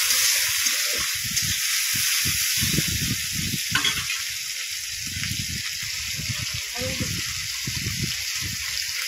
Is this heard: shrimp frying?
yes